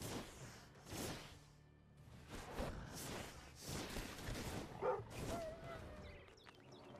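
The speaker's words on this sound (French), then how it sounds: "Attention, chien." A dog barks in the co-op survival game Enshrouded, several sharp barks and yelps scattered through ongoing game sounds and combat noise, with players chatting over it.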